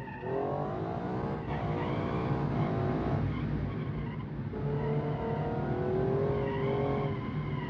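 A race car on the Pikes Peak map of a racing video game drives with a loud, steady engine drone whose pitch climbs and falls through gear changes, and tires squeal and skid throughout.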